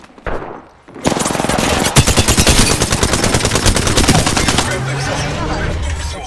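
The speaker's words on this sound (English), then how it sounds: "Opening fire on the enemy" Rapid automatic gunfire from the Alternator in Apex Legends: after a short opening, a dense, loud burst of close shots rattles steadily for several seconds, then trails off into quieter game noise.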